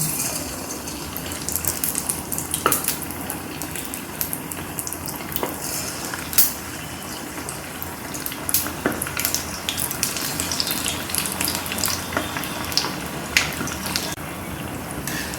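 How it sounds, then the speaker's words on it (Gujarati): Sweet corn vadas sizzle and crackle steadily in hot oil, with occasional sharper pops and clicks over the continuous frying hiss. "તો હવે આપણે એને ફ્રાય કરીએ"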